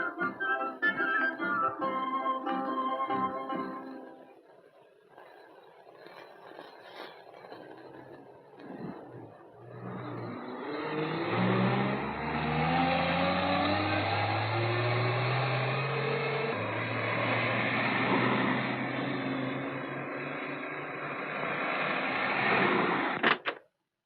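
A car pulls up and its engine winds down and idles, a rising and shifting mechanical drone that follows a stretch of music and fades into a steady hum.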